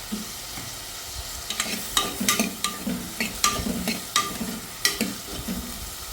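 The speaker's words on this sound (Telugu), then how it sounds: "ముందుగానే ఆ గ్రీన్ పీసును పొటాటో ముక్కలు ముందు వేసేస్తున్నాను" Green peas and potato pieces fry in a pan with coriander stems, giving a steady low sizzle broken by repeated scraping and clattering strokes of a stirring spoon against the pan, close and fairly loud, with no talking.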